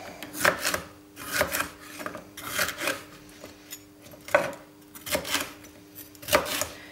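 A knife chopping vegetables for Hungarian goulash on a board, a run of distinct close, loud strokes in an uneven rhythm, about a dozen cuts with short pauses between them.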